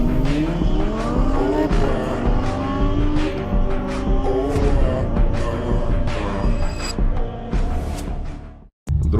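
A car drives along with a steady engine drone and shifting tonal whine from motion, plus some tire noise, loud and continuous before a brief dropout near the end.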